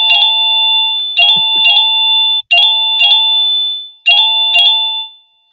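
A loud electronic doorbell rings out in repeated two-tone ding-dong chimes, a few strikes in each burst, with two short pauses before the final chime fades away.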